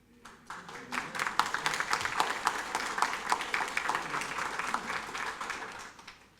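Sustained applause from a crowd at a county council meeting, a dense patter of many hands clapping steadily for several seconds, moderately near, with no talk over it.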